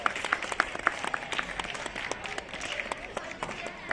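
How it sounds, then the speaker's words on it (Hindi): An audience claps at a district yoga championship prize announcement during a college and school yoga demonstration program; the applause is steady and fairly close, with crisp individual claps throughout. "जोरदार तालियां।"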